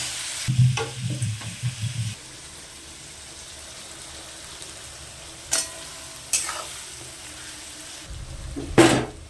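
Oil sizzles in a pan while a utensil scrapes and stirs in short bursts, followed by quieter cooking and a few clinks, then louder stirring near the end, as mutton curry is cooked.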